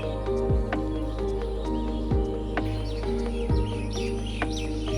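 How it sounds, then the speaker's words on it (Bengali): A dove calls at a rural pond-side resort in Sripur, repeating low cooing notes about every one and a half seconds at moderate distance over a faint outdoor background. "এখানে কিন্তু ঘুঘু ডাকছে"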